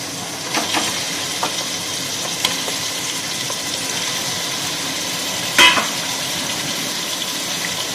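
Washed chicken pieces go into onions frying in a pan for yakhni pulao, raising a steady, close sizzle that holds throughout, with a brief louder hiss burst near the end and no talking.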